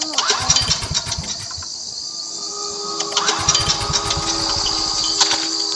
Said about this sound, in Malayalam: ആ ജനറേറ്റർ ഓണാണ്